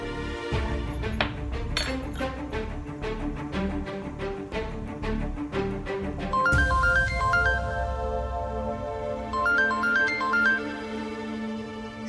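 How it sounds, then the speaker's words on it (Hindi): A phone rings with an incoming call in a home scene, a bright repeating electronic melody pulsing in a steady rhythm over a busy background of clinking, loud and close, without speech. "सत्तू दीदी का फोन है।"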